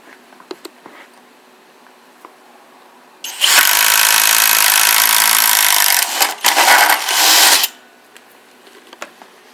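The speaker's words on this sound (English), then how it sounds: "see a quick whirl of the Kobalt brushless 24V 4AH battery with this flute drill" A Kobalt 24V brushless impact driver whirs loudly for about four and a half seconds, boring through wood with an Irwin 3/4-inch flute bit, a brief dip mid-run, quiet before and after.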